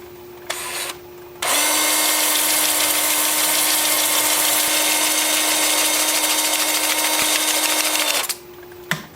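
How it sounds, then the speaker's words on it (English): A wood lathe spins up in reverse while turning a cherry plum bowl, giving a loud, steady motor whine that holds for about seven seconds before winding down, with a quieter hum before and after. "then we'll put the lathe in reverse, bring it up to about 350."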